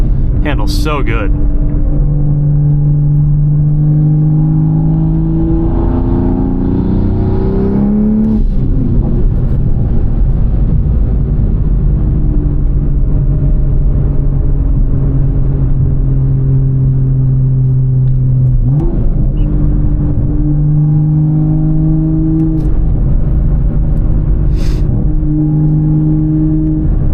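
A 840 wheel-horsepower Toyota Supra running E85 accelerates hard on a street, its engine droning loudly and climbing in pitch through several gear shifts with brief dips between pulls, while people talk over the cabin noise.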